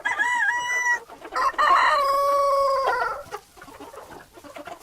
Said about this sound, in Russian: Утром петух выходит из курятника и начинает кукарекать.